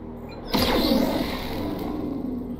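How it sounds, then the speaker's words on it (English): A single Binary Laser Cannon blast in MechWarrior Online erupts sharply, then trails off into a sustained, buzzing energy hum that fades slowly. "Binary Laser Cannon."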